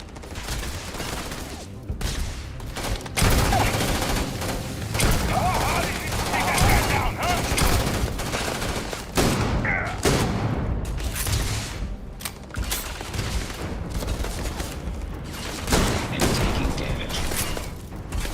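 Game gunfire in Starfield: dense bursts of shots and impacts that keep going for the whole stretch, loud and close, with a few booms and mechanical clanks mixed in.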